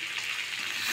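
Paneer sizzling in a hot pan, a steady bright hiss of frying that holds evenly and close throughout, with no voices over it.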